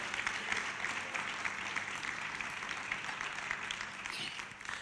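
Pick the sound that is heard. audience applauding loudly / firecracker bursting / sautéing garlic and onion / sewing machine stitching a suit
audience applauding loudly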